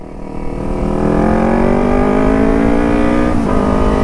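A motorcycle fitted with an X5 exhaust is revved at low rpm close by: a loud, steady, throaty drone that climbs gradually in pitch, with a brief dip near the end.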